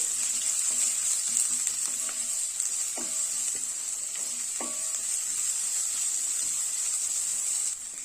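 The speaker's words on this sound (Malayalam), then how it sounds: "ഇതിലേക്ക് 2 സവാള കട്ട് ചെയ്തത് ചേർത്ത് കൊടുക്കാം. ഇതൊന്ന് വഴറ്റി കൊടുക്കാം." Sliced onions with ginger and garlic sautéing in a pan for egg curry, a bright steady sizzle with a few spatula scrapes early on, close and alone.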